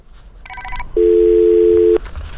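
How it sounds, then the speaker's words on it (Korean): A steady one-second telephone tone sounds after a call drops during a live Korean stock-market broadcast phone interview. A brief burst of multi-pitched dialing-like beeps comes first, then the loud continuous tone cuts off cleanly. "지금 전화가 잠시 끊긴 것 같은데"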